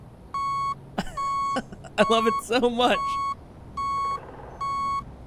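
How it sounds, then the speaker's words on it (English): The backup alarm on a rover in the Space Engineers video game sounds as a series of evenly spaced electronic beeps, five bright pulses, clear and close, while someone talks enthusiastically between and over them. "The backup alarm is so good."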